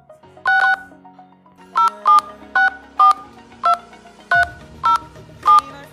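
Phone keypad tones sound as a number is entered on an Android phone: about ten crisp, evenly loud dual-tone beeps at an irregular typing rhythm, over a faint background hum.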